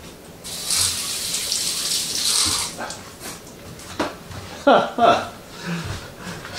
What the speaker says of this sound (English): Let me rinse my hands.